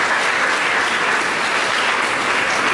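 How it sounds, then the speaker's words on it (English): Sustained audience applause at an international peace convention held at a college in West Nile, steady and dense clapping filling the whole stretch without a break. "At least clap for Professor."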